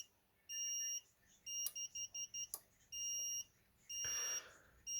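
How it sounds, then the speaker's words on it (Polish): Short electronic beeps from a timer relay sound in an irregular intermittent pattern, a few quick pulses between longer tones, clear against a quiet background. "Dalszy sygnał przerywany, dźwiękowy, te krótkie dźwięki"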